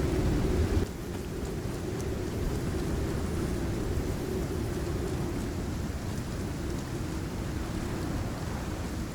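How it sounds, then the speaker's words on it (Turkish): Steady rain and storm noise from the video game Icarus roaring throughout, dense and continuous, with a brief louder burst at the very start. "Şimdi fırtına geliyor, binamıza zarar veriyor."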